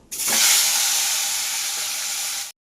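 Fish frying in hot oil in a wok, a loud bright sizzle that flares up at once, then holds steady for about two seconds before cutting off.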